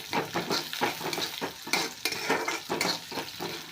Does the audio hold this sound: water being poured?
no